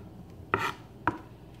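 A knife dices ham on a cutting board in two crisp, separate chops about half a second apart, close and clean against quiet background hum.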